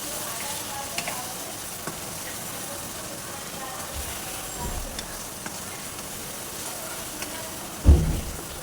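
Crushed chili and tomatoes sizzling with meat for Balti gosht, a steady close frying hiss with faint stirring scrapes and a brief louder clatter near the end.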